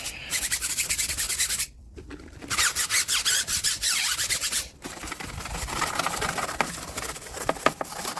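A stiff brush scrubs dirt off a car tire in rapid, rasping strokes, loud and close, with two brief pauses between bursts and lighter scrubbing toward the end.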